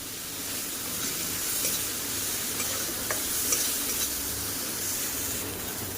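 Cumin and ginger paste fries in a pan with salt, a little turmeric and a splash of water: a constant sizzling hiss with soft stirring scrapes, close and even throughout, no voices.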